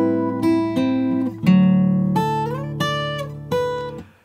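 Guitar plays bars 8 and 9 of a song, a sequence of about seven plucked chords and notes that ring and decay, clear and close with no talking.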